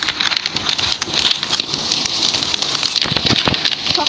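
Steady rain hisses and patters continuously in the video game Lokicraft, a dense even wash of drops with scattered crackly ticks and no voices.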